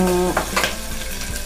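Green chillies frying in a pan for rice, a steady close sizzle with a few stirring scrapes and clinks of a utensil against the pan, no talking.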